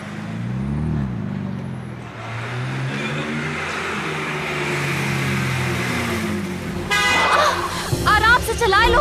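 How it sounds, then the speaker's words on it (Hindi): Traffic noise with a car engine rumbling, then a few short honks from a vehicle horn near the end over the road sound. "हॉर्न दिया तो था, सुना क्यों नहीं तुमने?"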